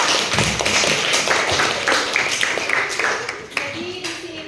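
Students clapping in an Indonesian classroom during a lesson, a dense, close patter of hand claps with irregular louder slaps and voices mixed in.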